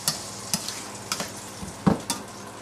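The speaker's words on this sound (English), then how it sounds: "give it a quick stir" A mixture being stirred in an oiled pan, soft sizzling beneath a few clicking, scraping strokes of a utensil at an unhurried pace, close up and with no speech.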